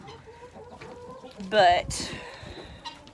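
Hens clucking around a backyard chicken coop where they come and go to lay eggs, a short burst of close clucks and squawks standing out over low outdoor background, with a person speaking briefly.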